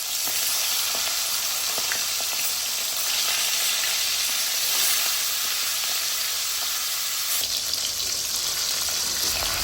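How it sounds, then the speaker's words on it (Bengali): Rui fish sizzles loudly and steadily in hot oil, with a constant crackling hiss and occasional small pops, close up and with no talking. "উল্টে পাল্টে মাছের দুই পাশেই ভালোভাবে ভেজে নেব"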